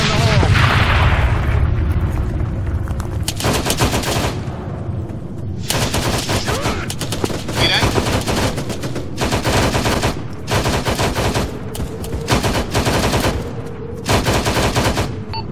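Bursts of machine gun fire from an airsoft or milsim operation, loud and sustained in repeated volleys separated by short pauses, with a boom early on and voices talking underneath.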